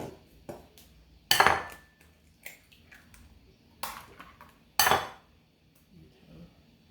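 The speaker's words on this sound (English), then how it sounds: "I'm gonna crack my eggs right now." Eggs cracked one after another against the hard rim of a bowl while making blueberry mochi batter, giving several sharp, close clicks and taps separated by short pauses.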